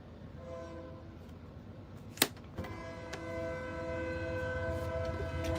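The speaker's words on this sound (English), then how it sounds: "Train coming by as I'm saying that." A train rumbles past at a distance in a steady, droning roll, with a sustained horn tone running through it and a couple of sharp clanks partway.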